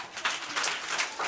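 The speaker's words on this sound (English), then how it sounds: "Claps all of you." Children in a classroom at a fruits day celebration clap together in a few quick, loose bursts of applause, fairly close and bright, with no talking over it.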